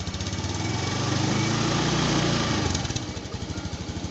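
A motorcycle engine on a vibration test bench is revved from idle, climbing to a louder, rougher roar and then dropping back to a pulsing, chugging idle, close up and with no talking.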